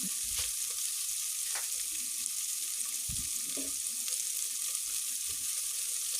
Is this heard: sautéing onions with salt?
yes